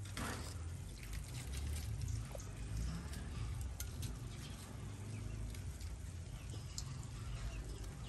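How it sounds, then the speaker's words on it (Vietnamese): Lime juice poured into a dish of raw river shrimp being prepared Thai-style with chilies, a steady trickling splash running close and continuous over a dull, noisy outdoor background. "Vô nước cốt chanh."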